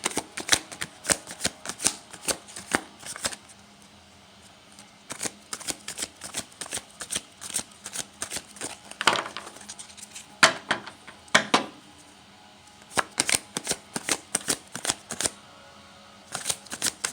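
Tarot cards are shuffled by hand in quick bursts of crisp riffling and slapping, loud and close, separated by short pauses with no talking.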